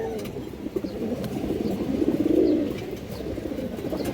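Pigeons of a breeding pair coo in a low, rolling murmur that swells around the middle and then eases off, fairly close and heard alone.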